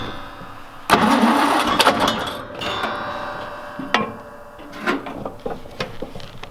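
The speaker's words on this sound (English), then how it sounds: "I'm fiddling with the choke, the throttle pedal, and the starter." A Bros SP-54 roller's engine cranks with a burst of starter noise and catches briefly, then stumbles through uneven sputters and clicks, as the choke, throttle pedal and starter are worked.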